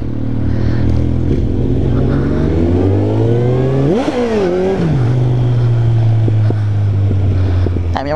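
A motorcycle engine idles, then revs sharply and climbs in pitch before settling back to a steady rumble, loud and close throughout.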